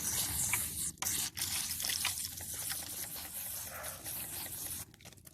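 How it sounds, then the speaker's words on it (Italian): Water sloshes and drips in a bucket as hands work orchid roots free of potting soil, a close, splashy stream of trickles and small splashes with brief pauses. "il modo alternativo è quello invece di andare a mettere a bagno in un secchio di acqua questo apparato radicale ed aiutarvi pian piano con le mani"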